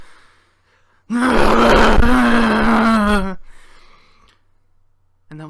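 A voice imitates a car engine starting, with a loud, sustained, rough groaning drone lasting about two seconds, followed by quieter breathy trailing sounds.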